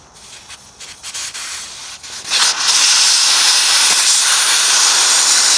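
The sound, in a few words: air compressor hissing while changing a front tire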